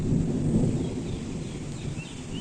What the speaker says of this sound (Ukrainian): гримить, дощик пускається.